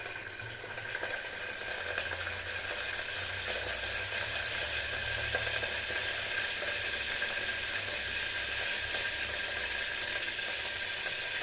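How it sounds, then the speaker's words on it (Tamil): Curry leaves dropped into hot oil for mutton kolambu, giving a steady, dense sizzle and hiss that holds evenly at moderate loudness throughout, with no voices. "எண்ணெய் காஞ்சோடனே கருவேப்பிலை போட்டுக்கலாம்."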